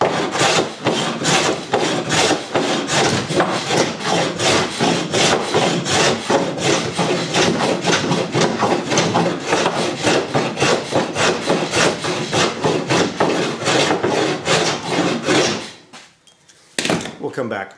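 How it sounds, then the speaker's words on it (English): Hand plane shaving wood while shaping a small wooden boat, loud close strokes in a fast, steady rhythm of rasping pushes, ending with a short pause and a few final strokes. "Let me go back to planing here."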